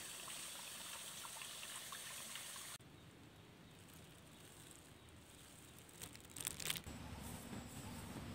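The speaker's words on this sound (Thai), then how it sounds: "น้ำตกครับได้น้ำตกน้อยๆอยู่พอได้ยินเสียงไรจอกๆครับผม" A small forest waterfall trickles steadily after rain, a soft continuous wash of running water heard alone with a faint rustle near the end.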